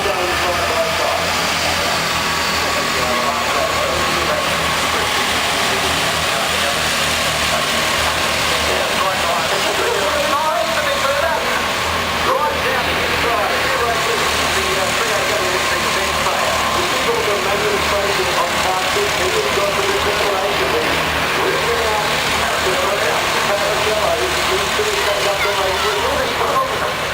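Racing go-kart engines in a kart race in Melbourne drone on at a constant, loud, buzzing pitch for the whole stretch, with commentary talked over them.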